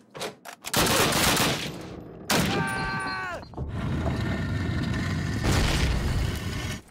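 Call of Duty gunfire volley: a loud burst of massed rifle shots, then a sharp ringing impact and further sustained rattling fire and booms, close and dense throughout.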